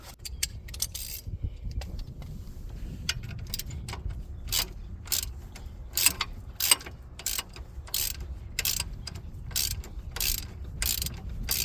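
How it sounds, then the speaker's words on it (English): Ratchet loosening the bolts on the right-side drive shaft of a 2014 Nissan Juke, giving a steady series of sharp, close metallic clicks in short bursts with brief pauses between strokes. "And now I'm using a ratchet to finish it off."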